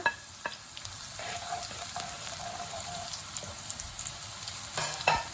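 Green chilli, ginger and the white part of spring onion sizzle and fry steadily in a pan for chilli chicken, with occasional stirring clinks and a faint tap-water hiss in the background; no talking.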